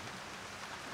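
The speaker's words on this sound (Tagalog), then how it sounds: "Lakas talaga ng ulan, oh." Heavy rain pours down in a dense, steady hiss with no breaks, faint and even throughout.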